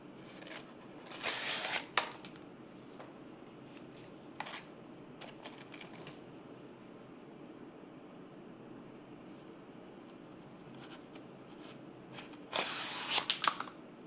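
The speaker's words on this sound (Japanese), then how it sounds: "こちらのコピー用紙の筒を切っていきたいと思います" Kitchen knife slicing through a rolled tube of copy paper, two brief crisp cutting bursts near the start and again at the end, separated by quiet room tone.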